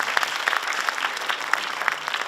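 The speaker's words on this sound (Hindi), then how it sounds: "तो उनके लिए भी तालियां हो जाएं," Theatre audience applause after the drama Chauthi ka Joda at the Ghalib Institute in New Delhi, a steady, dense patter of many hands clapping with a few sharper claps standing out, fairly close and without talk.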